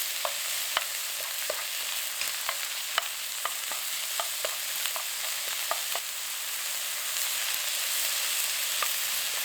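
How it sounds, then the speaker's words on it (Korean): Sliced beef stir-fried with cabbage, onion and carrot in a hot pan gives a steady broadband sizzle, broken by frequent sharp clicks and scrapes of the utensil against the pan, with no talk. "잘라놓은 소고기 100g, 고기 뭉치지 않게 볶아주세요."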